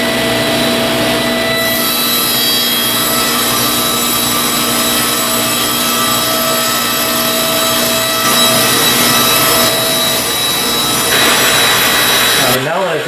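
A power saw runs continuously and loudly, cutting a wood panel into pieces for a tool cabinet; a steady whining drone holds throughout before cutting off at the end.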